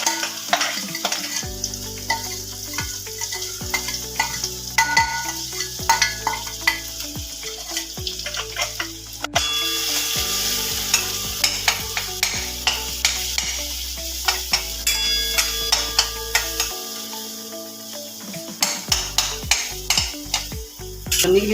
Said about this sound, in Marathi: आता हे याच्यामध्ये चांगला परतून घेतो.